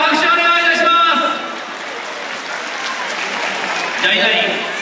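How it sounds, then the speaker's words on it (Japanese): Audience applause at a sports day with costumed mascot characters, a broad steady clapping wash that swells at the start, dips midway and rises again, with a voice speaking over it early on. "いなりにどうぞ大きな拍手お願いいたします。"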